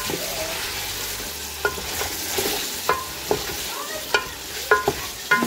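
Veal pieces sizzle in a pot for pulao while being stirred, a close frying hiss punctuated by sharp clacks and scrapes of the spoon against the metal, several in quick succession.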